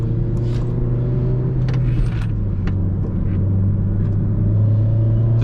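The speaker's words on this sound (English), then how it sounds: "putting this car on the road" A 2008 Honda Civic Mugen Si driving along rural back roads, a loud continuous engine hum whose pitch climbs gradually over road rumble, heard close from inside the car with occasional light clicks.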